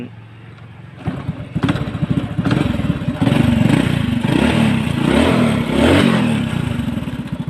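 A genuine Kurusapha motorcycle with a KS code starts with a clatter about a second in, then its small engine idles and revs up close, a loud, fast, even putter that runs to the end.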